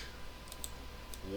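Computer mouse clicking during image editing, a few faint sharp clicks close by in a quiet room, one brief voice sound near the end.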